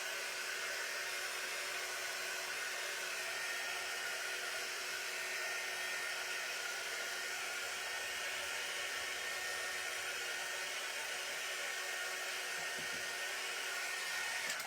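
A heat gun or dryer blasts air steadily over a freshly painted wooden birdhouse banner sign, a loud continuous whoosh that holds for the whole stretch with no talk.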